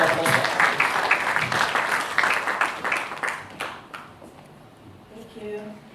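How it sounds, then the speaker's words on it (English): Audience applause at an International Women's Day event as a speaker is welcomed: a dense, steady burst of clapping that holds for about four seconds, then thins and fades, with a faint voice near the end. "Let's give a warm round of applause."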